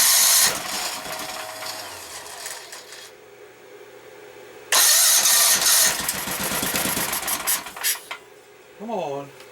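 A go-kart's small engine, freshly fitted with a cleaned PZ30 carburetor, cranks and catches with loud sputtering bursts, dies to a low idle, then roars back into rapid revving, close and loud.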